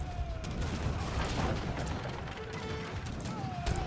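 Heavy cannons firing in a naval strategy game, a dense, continuous wash of booms and crashing impacts with scattered mechanical noises, steady and fairly loud throughout.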